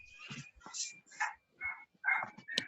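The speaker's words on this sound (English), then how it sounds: "That's my sister's dog." A dog barks and yips in several short, sharp bursts with whimpering tones, fairly close and alone, with no talk over it.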